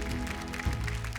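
An audience applauds on a stage show to welcome comedian Raju Srivastava and his wife, a dense steady wash of clapping filling the whole short stretch.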